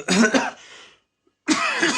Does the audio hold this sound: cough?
yes